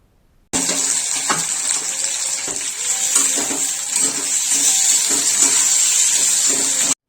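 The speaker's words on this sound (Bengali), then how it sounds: "ওই একই তেলের মধ্যে সেদ্ধ করা আলুগুলো দিয়ে দিতে হবে, দিয়ে ভালো করে একটু ভেজে নিতে হবে।" Boiled potatoes frying in oil in a pan, producing a loud, steady hissing sizzle that begins abruptly and holds throughout, with faint intermittent knocks of the potatoes or a utensil, heard close with no talking.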